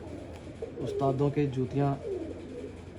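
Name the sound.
pigeons cooing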